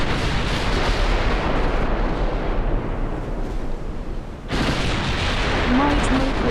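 Naval guns in the Ultimate Admiral Dreadnoughts video game rumble in a loud, continuous barrage of heavy booming artillery fire that dips briefly and then resumes with renewed force.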